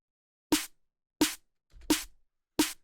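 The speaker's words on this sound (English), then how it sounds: "So the snare is broken down into two parts here." Four crisp hits of a layered, two-part snare drum sample, partly made in Serum, spaced evenly apart, each a punchy crack with a bright, noisy tail, isolated with silence between.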